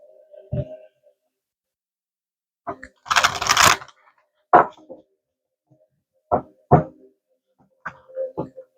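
Oracle cards being shuffled by hand, producing several separate bursts of papery slapping and riffling, one longer flurry and a few short clicks, close and fairly loud against silence.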